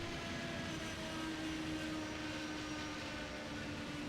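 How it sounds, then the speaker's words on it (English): A classic IndyCar engine in iRacing Indy 500 qualifying winds up along the back straight, a constant jet-like whine and drone, moderately loud with a slowly rising pitch. "You can hear that car ramping up like a jet engine down the back straightaway."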